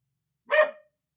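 A dog gives one short, sharp bark from some distance. Silence comes before and after it.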